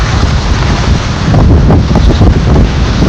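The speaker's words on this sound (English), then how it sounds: "There's still waves coming in." Waves surge in under loud, buffeting wind during a hurricane, a constant roaring wash with heavy wind blasts hitting the microphone.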